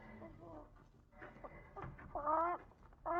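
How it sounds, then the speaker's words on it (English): Close, moderately loud chicken clucks run in uneven bursts, ending in a few stronger squawking calls, heard alongside faint voices. "That's a chicken."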